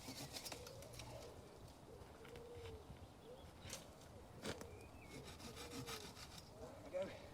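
Pruning saw cutting through tree branches while thinning a crown, a faint continuous rasping saw stroke heard from a distance, with birds and a dove calling in the background.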